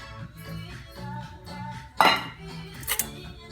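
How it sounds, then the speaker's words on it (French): Utensil scraping and clinking against a bowl while flour batter for gbofloto puff-puff beignets is mixed, with a rhythmic series of strokes and a couple of sharper clinks near the end, close by and moderately loud. "On va bien mélanger."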